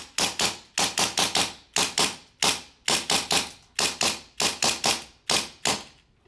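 A G&G Piranha SL gas blowback airsoft pistol fires sharp, loud snapping shots in quick clusters of two or three, with short pauses between the clusters, about twenty shots in all, close and with no voices.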